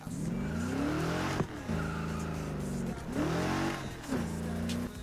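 A Mustang drifts in the racing game NFS Heat, its engine roaring steadily while tires squeal in long sustained bursts, the tone sliding and dipping with each slide; loud and continuous with no talk.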